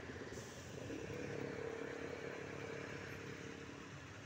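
A motorcycle travels along a road at night, its engine a steady droning hum that holds fairly constant throughout, moderately distant and not loud.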